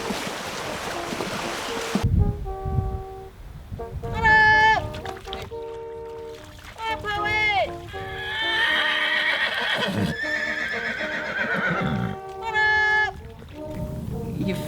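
Hunting horses whinny repeatedly in bursts, loud and close, with a broadband clatter that fits hooves on the ground underneath.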